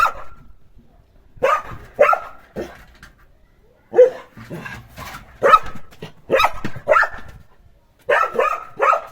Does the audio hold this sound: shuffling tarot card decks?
no